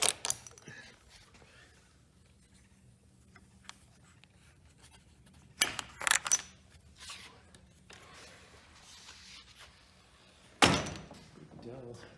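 A sticking pavilion door in dry weather is unlatched and pulled open: faint clicks and rubs over a quiet background, then a pair of sharp knocks and scrapes, and finally one loud thunk.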